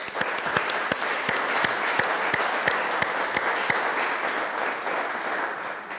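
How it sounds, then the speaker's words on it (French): Sustained applause from an audience at a municipal council meeting in Cesson as newly elected deputy mayors are installed, with dense, steady clapping throughout. "On peut applaudir."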